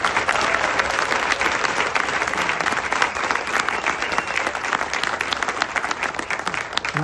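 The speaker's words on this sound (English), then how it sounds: "Give John a round of applause and thank him for his service." Steady, enthusiastic applause from a large crowd, loud and continuous throughout with no talking, many hands clapping at once.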